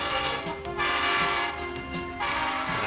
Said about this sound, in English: Let's all relax and watch trains.